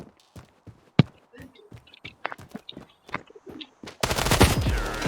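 Gunfire in the mobile shooter Standoff 2: scattered single shots and short bursts, then a dense sustained burst of automatic fire near the end, with faint player talk in between.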